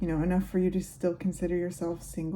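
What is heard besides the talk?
No everyday noise stands out behind the speech.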